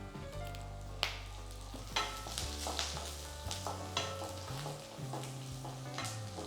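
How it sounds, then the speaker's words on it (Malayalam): Peanuts frying in hot oil with curry leaves added, a steady close sizzle broken by several sharp stirring scrapes and clinks of a utensil against the pan, no voices. "ഇവിടെ ഫ്രൈഡ് ആയി വരുമ്പോൾ ഞാൻ ഇതിലേക്ക് കുറച്ച് കറിവേപ്പിലയും കൂടെ ചേർക്കാം."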